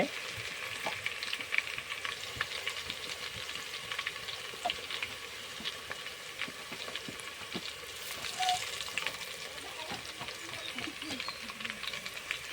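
Garlic frying in hot oil in a village kitchen, a continuous fine crackling sizzle at moderate level with scattered pops, lasting throughout without any talk.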